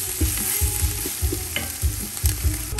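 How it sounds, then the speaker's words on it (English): Lemongrass paste (kroeung) stir-fried in a pan for a Khmer rib stew, with steady close sizzling and rhythmic scraping strokes of the utensil roughly every half second. "once you do this and you stir fry like this, it's gonna release the aroma of the krương"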